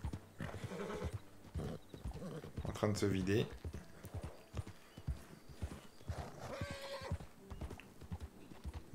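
A horse in the video game Red Dead Redemption 2 runs with rhythmic hoof clip-clops and a whinny, heard under someone talking over it.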